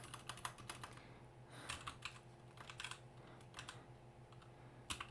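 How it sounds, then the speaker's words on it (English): Typing on a computer keyboard, with bursts of rapid close key clicks separated by short pauses over a steady low background hum. "let's just type here"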